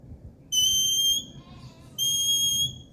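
A sheepdog handler's away whistle command rings out in two sharp, loud high-pitched blasts separated by a short pause, clear against a quiet outdoor background.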